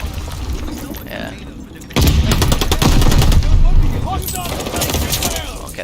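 Aerial strafe-run gunfire from a Call of Duty killstreak opens up suddenly partway through, a loud, dense burst of rapid shots and booms layered over earlier background game noise and distant firing.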